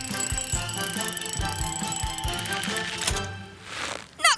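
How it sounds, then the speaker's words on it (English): A cartoon truck's winch lowers another truck in a steady ratcheting clatter of clicks over a bouncy music bed, ending in a brief whooshing rise. "Use your winch to lower me down!"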